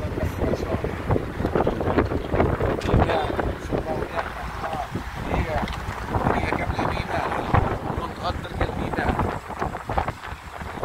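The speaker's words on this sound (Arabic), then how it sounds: "ريح" Wind gusts across the microphone outdoors in Zaafrania, Annaba, Algeria, a rough, buffeting rumble that runs loud and continuous throughout, with people talking underneath.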